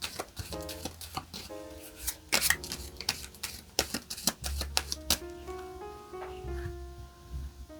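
Tarot cards drawn one at a time from a deck, giving a series of sharp papery snaps and slides with quiet gaps between them, over soft background music.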